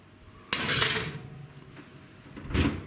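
A tray of hot dogs is slid into a home oven, with a sharp metallic clatter as the tray goes in, a stretch of quieter scraping, and a final clunk as the door or rack shuts, close and fairly loud.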